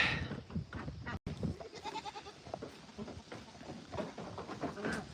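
Goats bleat repeatedly at moderate distance amid shuffling and rustling near a chicken coop, a faint busy farmyard scene.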